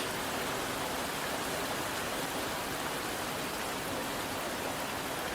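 Steady rain falling through a scene of the yandere otome game Psycho Caste, a dense even hiss with no distinct drops standing out, constant and fairly soft throughout with no voices.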